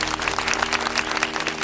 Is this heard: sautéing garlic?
no